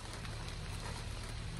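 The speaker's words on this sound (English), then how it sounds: "The rain started." Steady rain falls through the dark on a pre-dawn hike along the Appalachian Trail, a dense, even hiss of drops that holds at one constant level with no voices over it.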